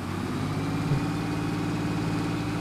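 Tractor engine idling steadily in Farming Simulator, a low, even rumble with a constant hum and no change in pace, heard alone.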